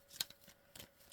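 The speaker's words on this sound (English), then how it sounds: "I just like to shuffle again before I pull one for you" A deck of tarot-style reading cards being reshuffled by hand, giving a few soft, quick riffling rustles and snaps close up, with no talking.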